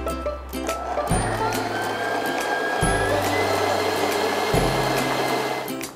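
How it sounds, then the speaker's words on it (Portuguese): A stand mixer whirs steadily at medium speed as it beats a sugar mixture into a pale cream for a coffee cake, its motor hum shifting pitch slightly a few times, close and continuous. "Agora é só bater em velocidade média por cerca de 5 minutos, até que essa mistura forme um creme esbranquiçado bem cremoso."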